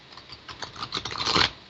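A deck of tarot cards is shuffled by hand, a close, soft flurry of papery riffles and taps that builds into a denser rustle before stopping.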